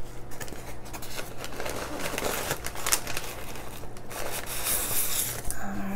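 Packing paper crinkles and rustles steadily while fish that arrived well packed are unpacked, a close, continuous scratchy rustle with small bursts and no talking.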